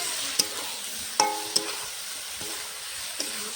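Tomatoes for a rohu fish curry with potato and beans are stirred and fried in a pan, giving a few sharp scraping clinks of the spatula over a faint, steady sizzle.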